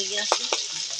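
Pangas fish frying in hot oil under a lid, a close, steady sizzle broken by a couple of sharp spattering pops, with no talk.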